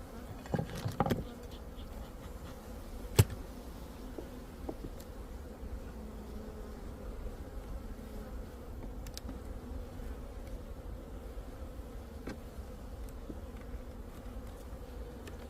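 Honeybees in a spring hive woken early and still weak, humming as a steady, continuous drone close by, with a few brief knocks and taps near the start and no talking.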